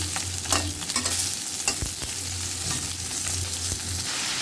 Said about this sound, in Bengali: এই যে মা সরষরি রান্না করতেছে